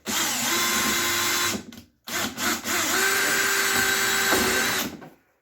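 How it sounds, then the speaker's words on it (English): A power drill runs in two close, steady bursts with a short pause between, whining as it pre-drills into wooden wall studs, then winds down. "We're going to pre-drill against these studs."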